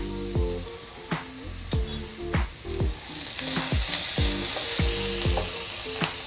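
Crushed garlic and ginger frying in a pan make a loud, hissing sizzle that swells midway, broken by repeated scraping stir strokes and squeaky tonal scrapes at a fairly even pace, close up with no voices.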